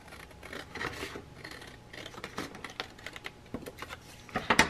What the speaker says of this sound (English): I forgot to cut out my insert.